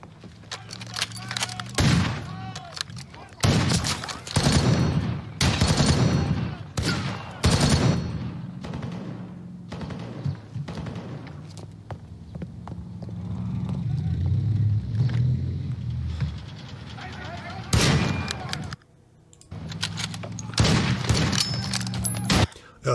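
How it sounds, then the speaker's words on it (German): Bursts of gunfire from the war film about the 1940 attack on Denmark, loud volleys and rapid automatic fire in repeated clusters with brief lulls, rumbling vehicle noise between, no talk over it. "dann wird geschossen"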